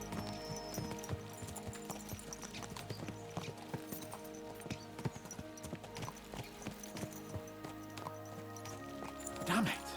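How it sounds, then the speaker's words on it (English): Horses galloping in the medieval video game Kingdom Come: Deliverance II, steady clip-clop hoofbeats running throughout over a busy game soundscape, with a horse whinnying near the end and voices talking at times. "Let's really spur these horses on, eh?"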